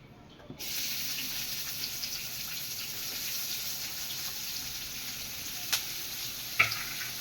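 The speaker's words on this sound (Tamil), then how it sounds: "நல்லா சிகப்பாக வறுத்துக்கணும் அது அதை நல்லா மொறு மொறுன்னு வறுத்துக்கிட்டு" Sliced large onions frying in a pan for a paneer and peas gravy, a steady close sizzle starting abruptly and running throughout, with a couple of brief scraping stirs near the end.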